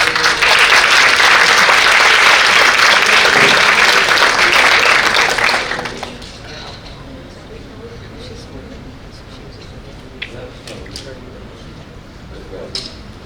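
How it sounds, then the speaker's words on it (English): Audience at a conference presentation on AI applauding: loud, dense clapping that lasts about six seconds and then gives way to quiet room noise with faint movement. "A round of applause."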